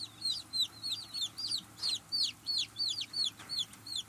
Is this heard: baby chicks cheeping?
yes